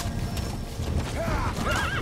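A horse whinnies twice in Metal Gear Solid V: The Phantom Pain, rising shrill neighs over the steady clip-clop of hooves at a gallop, heard up close with no talking.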